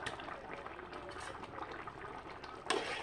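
A potato, pointed gourd and paneer curry simmers in a pot with faint, steady bubbling and a soft liquid fizz, close by, ending with a brief metallic clink.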